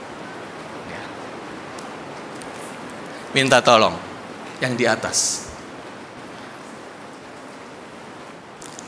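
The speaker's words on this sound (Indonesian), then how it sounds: "saya agak bersaing dengan hujan" Steady rain falling during a church sermon, a constant soft hiss throughout, with someone briefly speaking over it in the middle.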